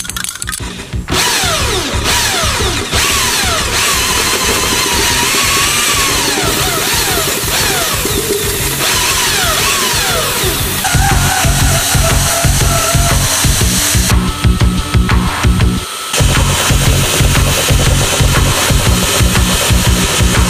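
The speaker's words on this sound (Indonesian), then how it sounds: "Saya menggunakan bor listrik untuk memutar kumparannya" An electric drill spins a Tesla coil's secondary winding so sprayed paint coats it evenly. It gives a loud, steady motor whine that runs almost unbroken, with slight shifts in pitch and brief dips.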